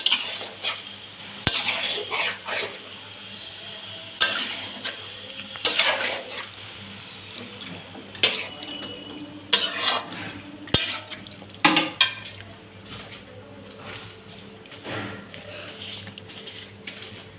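About three and a half kilos of meat being stirred in a pot, with repeated scraping and clinking of a utensil against the metal in irregular bursts over a low sizzle and kitchen hum.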